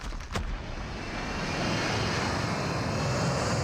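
A helicopter in Call of Duty Mobile gives a loud, constant engine roar that fills the whole stretch, with one sharp thud near the start.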